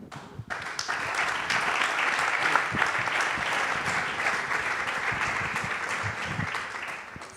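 An audience at a sports journalism forum bursts into applause, a sustained, dense round of clapping that holds steady from start to finish, with faint voices beneath it.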